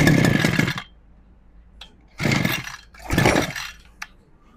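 A grass trimmer's small two-stroke engine catches after pulls on a freshly fitted pulley recoil starter, running in three loud buzzing bursts separated by brief quiet gaps, with a sharp click near the end.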